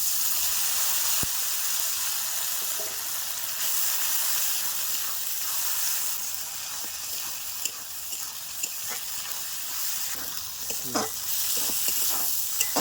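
Ground paste of dried chilli, ginger and cumin fries in a pan with fish, giving a continuous loud sizzle and hiss with a few soft clicks of stirring.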